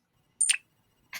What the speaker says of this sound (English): Here's the coin dropping in the puddle.